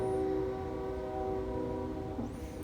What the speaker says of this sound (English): And there's another train, y'all.